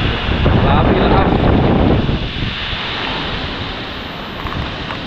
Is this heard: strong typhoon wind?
yes